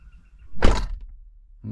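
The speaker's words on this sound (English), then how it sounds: "Let me close this door now" A single solid thunk of a car door shutting nearby, brief and loud, followed by quiet and then faint low rumble.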